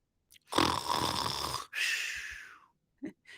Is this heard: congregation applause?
no